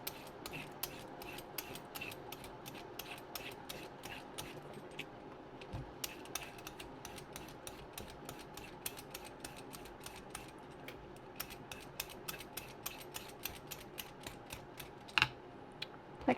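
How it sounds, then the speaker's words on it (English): Zucchini being peeled with a vegetable peeler for canning, giving a steady run of quick, dry scraping strokes in a repeating rhythm, close and fairly quiet, with no talking. "But you just want to peel the zucchini."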